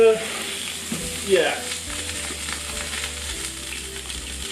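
Chicken for stroganoff sizzling and crackling steadily in hot oil in a pan, close and constant, with a stir or clatter early on and a brief spoken remark over the frying.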